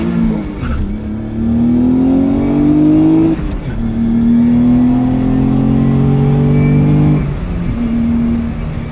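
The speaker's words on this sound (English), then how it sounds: "I've never launched this car, like actually launched it." Nissan 300ZX sports car with about 400 horsepower launching from a stop and accelerating hard, heard from inside with the engine climbing in pitch through several gears and brief drops at each shift, loud and close.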